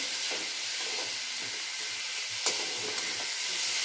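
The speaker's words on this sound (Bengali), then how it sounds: "তেলের মধ্যে আলুগুলো দিয়ে দিয়েছি, আলুগুলো একটুখানি সেদ্ধ হয়ে গেছে, তারপরে উচ্ছে পাতাগুলো দিয়ে দিয়েছি।" Potatoes and bitter gourd leaves fry in hot oil, giving a steady, even sizzle and hiss close up, with a couple of faint clicks of stirring and no talking.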